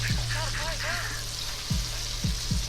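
A whole catfish fries in hot grease, making a steady, loud, close sizzle and bubbling throughout, with a voice talking over it and a few low thumps.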